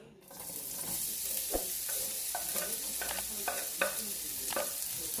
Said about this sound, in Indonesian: Ini ditumis dulu ya sampai harumnya.